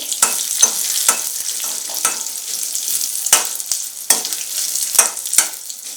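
Mustard seeds, cumin, chana dal and a small dried red chilli tempering in hot oil, a constant crackling sizzle broken by repeated scraping stirs at an uneven pace, close and alone.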